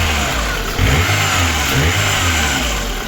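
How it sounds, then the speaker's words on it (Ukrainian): A VAZ 21099 with a 1.6 engine runs in a garage after repair, idling steadily with a loud, even hum and a slight whir from the alternator pulley, briefly rising once or twice. "Запустили двигун. Ось так працює, шумить е, ролик генератора трошки."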